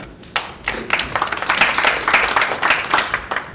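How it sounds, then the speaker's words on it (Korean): An audience at a Korean debate forum on unfair election broadcasting claps, starting with a few scattered hand claps that quickly build into dense, steady applause from the hall. "박수 부탁드리겠습니다"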